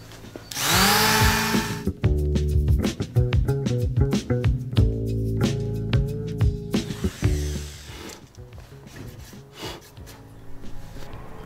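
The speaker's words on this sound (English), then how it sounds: "Got quite a bit more sanding to do." Rough power-tool noise sanding wood and epoxy flat on an RC model plane in uneven bursts, with a loud harmonic whine rising and falling as the tool runs and pauses.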